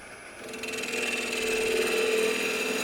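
Spindle gouge cutting into a spinning wooden gnome hat on a woodturning lathe, a steady droning whir that swells slightly and holds, close and loud with no talking.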